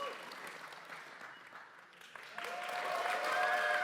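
A crowd at a gaming event applauds as a player walks onto the stage, steady applause under a presenter's voice that grows fuller and louder toward the end.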